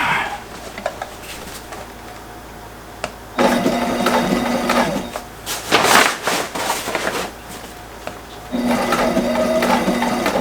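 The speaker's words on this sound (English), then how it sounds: "Alright, let the sewing begin." A sewing machine stitching a cover, running in two steady bursts of mechanical whirring with quieter handling noise in the pause between them, close and fairly loud.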